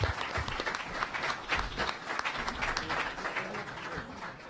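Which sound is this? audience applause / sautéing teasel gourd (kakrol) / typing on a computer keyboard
audience applause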